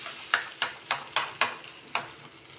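A spoon stirs food in a pan after salt and pepper go in, six or seven sharp scraping strokes in a steady rhythm over a faint background, with no talking.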